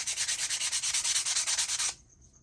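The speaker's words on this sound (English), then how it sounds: "you always want to sand the same way that your crackle's going" Sandpaper scrapes back and forth over crackle paint on a painted chicken in quick, even strokes, about twenty rhythmic passes, close and crisp, then stops abruptly into near silence.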